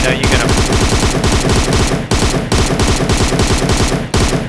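Continuous full-auto fire from an M762 Beryl rifle in a video game, loud, close and rapid, emptying a full magazine in two long sustained bursts with a short break between them.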